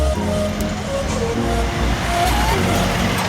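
A Kawasaki Ninja 650 motorcycle with a Tri-R aftermarket muffler idles close by, a continuous low, throbbing exhaust rumble with slight shifts in tone and no voices over it.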